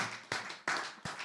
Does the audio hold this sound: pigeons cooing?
no